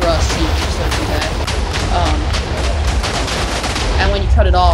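A video game cannon fires a rapid, continuous barrage of loud booming blasts and explosions, while someone talks over the noise.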